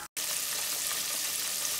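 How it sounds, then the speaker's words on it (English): Chicken frying in hot oil gives a dense, steady sizzle and crackle, close and continuous after a short gap at the start. "So once your chicken is still frying, here's what it's gonna look like."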